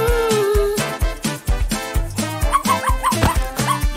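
A small puppy lets out a run of short barks and high yips, close and fairly loud, in quick uneven bursts with whimpery rises toward the end.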